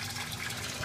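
Water churning and being mixed in a home aquarium water change station, a faint continuous gushing, bubbling wash with no voices.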